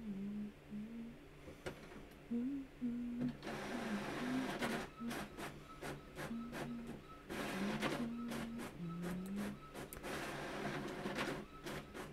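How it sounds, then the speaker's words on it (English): A printer runs through orders in a home setting, giving off busy mechanical clicks and feeding noises over a steady background hum with a tonal whine underneath; fairly quiet overall. "I'm just printing the orders out"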